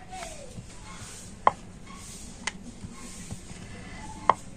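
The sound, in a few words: rolling out flour dough for sweets with a rolling pin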